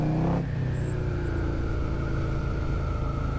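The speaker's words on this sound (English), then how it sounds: "Got a V-twin nasty sound" A V-twin engine revs briefly and then settles into a steady, loud, close drone with a slowly rising tone, heard alone without talk.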